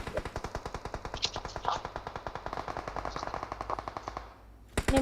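Sustained automatic gunfire in the mobile battle-royale game PUBG Mobile: a rapid, steady stream of shots rattles on for about four seconds, then breaks off briefly before a few final bursts, with no talking.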